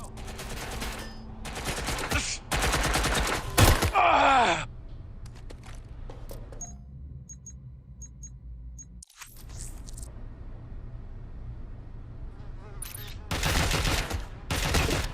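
Gunfire in Watch Dogs Legion: several sharp bursts of rapid automatic shots in the game, broken by quieter stretches with shifting tones and a groan-like vocal sound.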